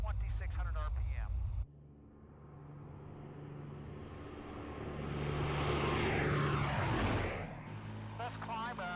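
Twin engines of a P-38 Lightning fighter roar loudly during climb-out, the heavy drone swelling and sweeping in pitch, with someone talking just before and after.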